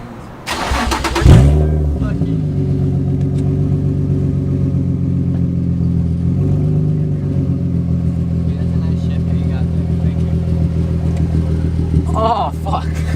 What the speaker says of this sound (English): Let's see how it looks when I move the car.